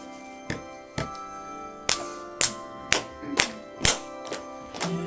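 A church congregation claps along to hymn 179, landing about nine sharp, loud claps in a steady beat of roughly two per second over sustained tones of music and singing.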